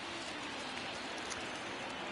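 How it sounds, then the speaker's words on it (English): Steady, soft rain hiss in MLB The Show 20, a faint even wash of falling drops with no breaks and no talking. "Oh, rainy night there?"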